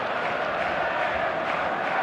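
Dense, steady roar of a stadium crowd at a football match in eFootball on an opening match day, a continuous wash of massed voices and cheering with no breaks.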